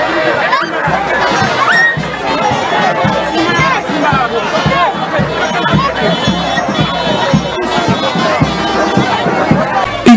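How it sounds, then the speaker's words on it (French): A large, dense crowd gathers in Kenge to welcome politician Adolphe Muzito, a steady roar of chatter and babble with shouts, continuous and loud throughout. "Une marée humaine pour accueillir le leader du Grand Bandundu, Adolphe Muzito"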